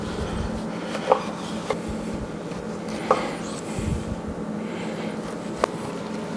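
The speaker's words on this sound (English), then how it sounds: "I'm gonna get the rest of these steaks trimmed up" A knife trims 45-day dry-aged ribeye steaks on a cutting board, giving a few faint, sparse taps and ticks against a low, steady background.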